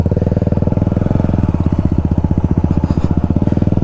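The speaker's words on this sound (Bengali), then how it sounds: "এই 4টে বাইক একসাথে আমাদের বেরোচ্ছে" Four motorcycles idle and rev close by, a steady loud rhythmic putter with no talking.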